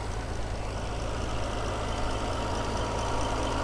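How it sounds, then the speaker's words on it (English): 2006 Bentley Continental Flying Spur engine idling, a smooth, steady low hum heard close and alone. "The idle sounds really healthy"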